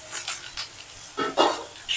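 Ridge gourd tipped into a pan of spices frying over low heat for a no-onion, no-garlic dish, giving a short soft sizzle and a few scraping stirs at close range.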